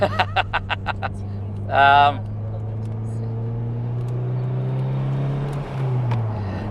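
A Toyota Celica GT4 engine drones steadily in second gear from inside the car, a low even hum that rises slightly then shifts, with a brief burst of talk and clicking near the start.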